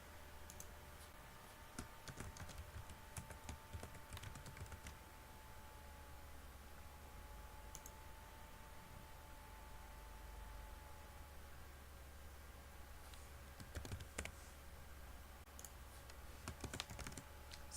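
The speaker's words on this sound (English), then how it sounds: "So just typing in his birth year and his state he was born in." Soft, irregular keystrokes on a computer keyboard, arriving in short bursts with pauses between them over a quiet background hum.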